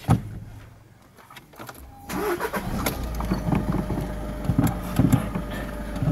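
A VW Golf 7 engine cranks and catches after a rear electronic parking brake pad replacement; quiet at first, then a sudden start settles into a steady, close idle with small revs.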